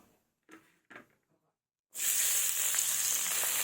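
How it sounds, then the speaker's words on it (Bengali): A few soft clicks and knocks, then loud, steady frying sizzle as chopped onions hit hot oil, continuing up close to the end. "পেঁয়াজগুলো একটু ভেজে নেবো হালকা করে"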